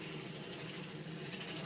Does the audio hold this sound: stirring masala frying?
no